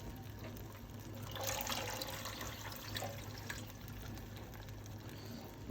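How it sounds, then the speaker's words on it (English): Two cups of water are poured into a cooking pot, making a steady, soft splashing and filling sound that swells in the middle and then settles, heard alone without talk. "we're gonna add 2 cups of water."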